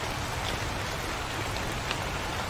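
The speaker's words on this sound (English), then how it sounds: "Alright, Rain. Calm the fuck down. You a little too loud" Steady rain in the Chilla's Art horror game about a night security guard at a haunted building, a dense, even hiss of falling drops close up and unbroken, with no voices.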